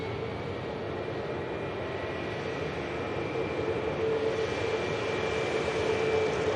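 The steady, broad roar of an Aer Lingus jet airliner leaving Manchester Airport for New York grows slowly louder over several seconds. It is heard from a distance as a continuous wash of engine noise.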